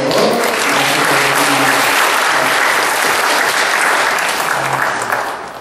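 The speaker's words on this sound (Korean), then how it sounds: "큰 박수 한번 쳐주시면" Loud, dense applause from a church congregation fills the space, a continuous wash of many hands clapping that holds steady and then begins to taper near the end, with no voices standing out.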